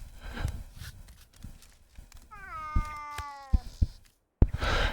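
From the game Baby Steps, a cat gives a clear, drawn-out meow in the middle. Scattered footstep-like knocks and low shuffling noise come before and after it, and a sharp hit follows a brief silence.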